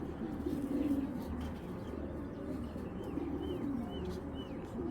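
Giribaz pigeons cooing at a farm, soft low cooing phrases repeating a few times under a faint ambient murmur, close and gentle with no clear talk.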